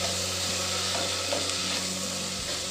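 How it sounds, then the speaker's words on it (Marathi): Ground green masala sizzles steadily in hot tempering oil with asafoetida and coriander-cumin powder while being stirred for a traditional pearl millet khichdi, a close, continuous frying hiss with faint scraping and no voices. "मसालाही आपण छान परतवून घेऊ फोडणीत।"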